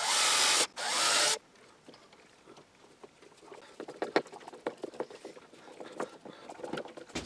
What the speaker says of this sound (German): Und bohre dann hier rechts und links ein bisschen vor, für die Schrauben reinzusetzen.